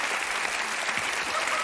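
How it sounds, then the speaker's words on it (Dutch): Audience applause for the winner of a TV talent show, a dense, steady clapping from a studio crowd, brief and fairly loud throughout. "Neem je applaus in ontvangst."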